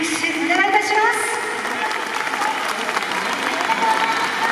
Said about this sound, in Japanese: 皆さんにもう一度盛大な拍手お願いいたします